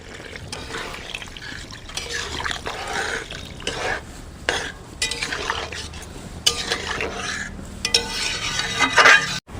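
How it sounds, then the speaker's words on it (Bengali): Stirring leta fish in a pan for a fish curry with tomato and potato: a loud, steady scraping and bubbling sizzle, with spatula knocks and swishes that grow busier toward the end, and no talking. "মাছগুলো দিয়ে আর কিছুক্ষণ নেড়ে চেড়ে নেব।"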